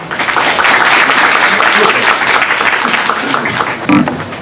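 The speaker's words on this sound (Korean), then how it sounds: "박수 부탁드립니다." Audience applause at a venture investment idea forum in Korea, fairly loud and dense clapping that stays steady throughout, with some voices mixed in.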